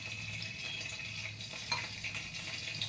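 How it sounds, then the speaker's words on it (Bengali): Food for chilli paneer is stirred in a kadai, with a steady close sizzle of hot oil under occasional light scraping and stirring sounds. "কড়াইতে ভালো করে আমি নাড়িয়ে নিলাম।"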